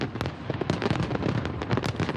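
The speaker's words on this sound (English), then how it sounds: "Fireworks, always a big draw to local events." Fireworks bursting in quick succession at a local community event, a dense, continuous barrage of loud cracks and booms with no pauses and no voices.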